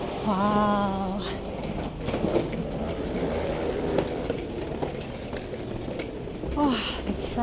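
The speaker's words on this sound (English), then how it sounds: "first look of Narva train station" Busy ambience at Narva train station in Estonia, near the Russian border: a steady wash of crowd and rail noise with faint tonal squeals and scattered clunks, continuous throughout at moderate level.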